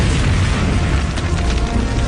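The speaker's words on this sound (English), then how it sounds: "I cross through the barrage of shells," Artillery shells explode in a barrage during a Golan Heights tank battle, a loud, dense rumble of overlapping booms that carries on without a break.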